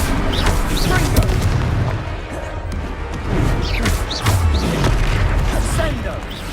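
Booming fire-spell explosions from the Hogwarts Legacy video game crash repeatedly over a constant rumbling battle din, with voices talking throughout.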